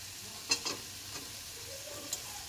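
Tomato frying in a pan with masala for a bhetki fish curry makes a soft close sizzle, with a few sharp stirring clinks and scrapes near the start and one more toward the end.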